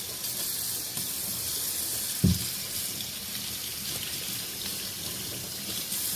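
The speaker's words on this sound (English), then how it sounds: "And I might run these through the water again," Running tap water pours steadily as beet greens are rinsed clean in a kitchen sink, a continuous broadband hiss with one brief splash or clunk partway through and no talking.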